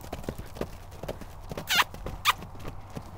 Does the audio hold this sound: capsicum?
no